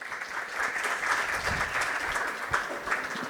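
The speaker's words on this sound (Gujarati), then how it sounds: "આપણે તાળીઓથી વધાવીએ" An audience at a Gujarati lecture gathering applauds to welcome a speaker to the stage, a steady dense wash of clapping lasting a few seconds with a couple of sharper claps near the end.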